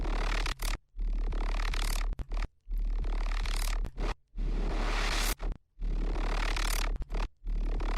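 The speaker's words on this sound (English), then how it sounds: "It's just amplitude modulate wide noise." A synthesizer grit layer of wide, tuned noise pulses under amplitude modulation, loud hissing bursts chopped by abrupt silent gaps in an uneven rhythmic pattern.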